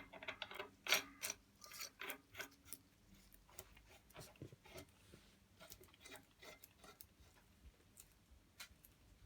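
Steering column parts being tightened by hand during assembly, giving irregular metallic clicks and ratcheting ticks in quick bursts, close and moderately loud, with no talking.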